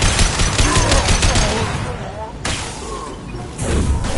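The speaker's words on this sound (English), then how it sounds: "Taking fire." Rapid bursts of loud automatic gunfire in Mass Effect 2 rattle at close range, easing off briefly in the middle before heavy shots pick up again toward the end.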